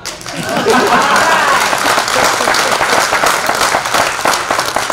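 Loud, sustained applause from a large crowd fills the whole stretch, a dense wash of clapping with a few voices mixed in.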